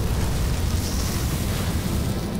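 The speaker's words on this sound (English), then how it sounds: "It's a real fire this time!" A cartoon fire roars as a dense, continuous rumbling whoosh, loud and steady throughout with no voices.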